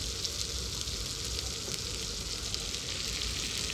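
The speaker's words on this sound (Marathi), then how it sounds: "इथं कुपा फ्राय करायला घेतला आहे" Kupa frying in a pan at home, giving a dense, continuous sizzle and crackle, close and fairly loud, with no voices over it.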